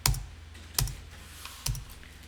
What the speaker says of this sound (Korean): F2 누르거나 물음표 단추 눌러서 또 한번 여기서 한일을 검색해 줍니다